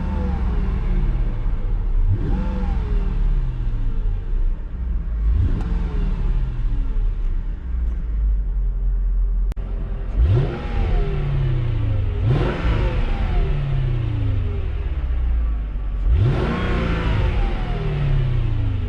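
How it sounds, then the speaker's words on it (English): A 2006 Mercedes-Benz E500 V8 heard from inside the cabin, revved repeatedly in short bursts that climb and fall back to idle, about six separate blips, with no talking. "Why don't we give it a few revs from the interior?"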